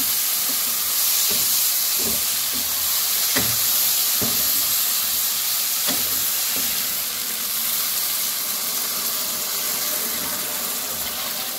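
Water poured into a pan of sautéed vegetables for a village-style fish curry, with a strong steady hiss of steam and sizzle, a few clinks and stirring knocks, and nobody speaking.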